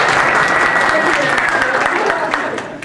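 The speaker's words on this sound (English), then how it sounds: "Round of applause." A conference keynote audience bursts into loud, dense applause that stays strong for a few seconds before starting to thin out.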